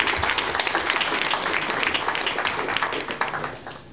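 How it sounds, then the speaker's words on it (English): A crowd at a community radio station's birthday celebration gives its volunteers a dense, steady round of applause, loud at first and tapering off gradually near the end. "if we can give all those volunteers just a quick round of applause"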